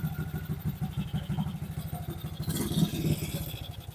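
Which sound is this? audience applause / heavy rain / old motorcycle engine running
old motorcycle engine running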